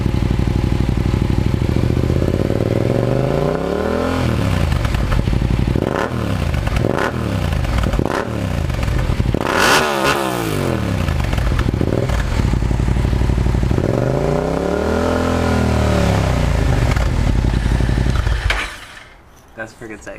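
A Yamaha FZ-07/MT-07 motorcycle with an Akrapovic exhaust is blipped repeatedly from idle, several sharp rising and falling revs in a loud close burst before the engine cuts off near the end.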